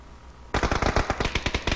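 Rapid automatic gunfire from the video game PUBG Battlegrounds, a loud close burst of fast repeated shots starting abruptly after a brief quiet moment and continuing steadily.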